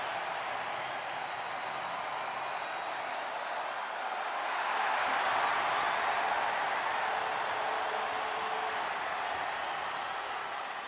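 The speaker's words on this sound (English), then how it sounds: "And you can already hear the roar of the crowd as this ladder match gets underway." Arena crowd in the WWE 2K24 video game at the start of a tag team ladder match: a dense, continuous roar of cheering and clapping that swells slightly midway and stays broad and sustained.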